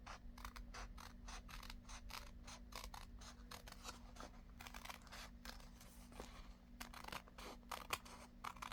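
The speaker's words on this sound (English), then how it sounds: "I'll just cut this little tiny bit off here" Paper scissors snip repeatedly through an envelope being trimmed for a journal insert, a quick run of close, crisp cuts and small clicks with no talk.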